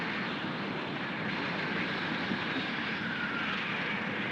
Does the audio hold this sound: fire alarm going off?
no